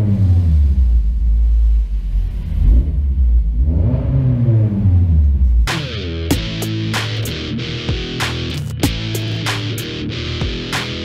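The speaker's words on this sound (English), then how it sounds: "You're lying if you never just rev your car up in the car wash just to hear it." A car engine revs inside a car wash: a deep rumble swells and falls, then the wash equipment takes over with sharp, repeated spraying bursts.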